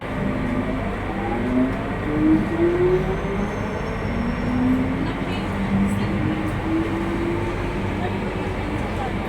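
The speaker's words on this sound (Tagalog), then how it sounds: "My train is here." A train pulls into a UK station with a loud, continuous rumble and rising and falling whine as it slows, close by, with a busy platform hum underneath.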